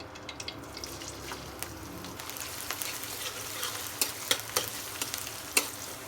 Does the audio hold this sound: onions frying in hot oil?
yes